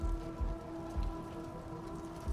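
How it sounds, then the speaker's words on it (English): Dense, steady rainfall in the Spider-Man video game pours down continuously with soft low thumps underneath, a constant wash of drops at moderate volume, no voices. "it is raining so hard"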